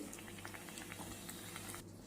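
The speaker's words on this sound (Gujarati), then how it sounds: "તો આ રીતે આપણે બધા સમોસાને તળી લઈએ" Kutchi samosas deep-fry in hot oil, making a faint, steady bubbling and crackling hiss throughout.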